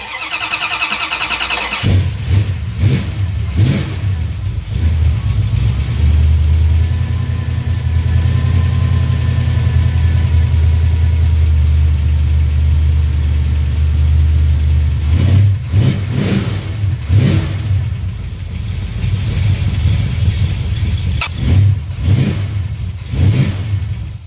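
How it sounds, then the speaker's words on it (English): A 1970 Plymouth Duster's 340 V8 cranks, fires and settles into a loud, steady idle, then breaks into several sharp throttle blips near the end, each rev rising and falling quickly, with no one talking. "for the gratuitous startup of the big 340, we'll turn the ignition on and let her fire."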